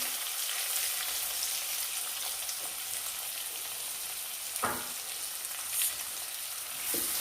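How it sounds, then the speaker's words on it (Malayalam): Chopped onions sizzle in hot oil with toasted cumin seeds for green chana masala, a steady close frying hiss with a few brief stirring clatters and no voices. "ജീരകം ഒന്ന് മൂത്തിട്ടുണ്ട്. നമുക്ക് ഈ സവാള അതിലേക്ക് കൊടുക്കാം."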